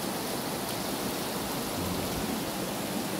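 Mountain spring water on Mt Banahaw rushes steadily, a dense, even hiss of flowing water, close and continuous with no other sounds.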